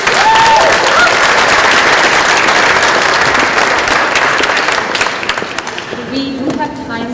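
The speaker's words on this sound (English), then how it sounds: "We have an extra applause for the good food" Loud, sustained applause from a conference audience, thinning out and fading toward the end as voices emerge.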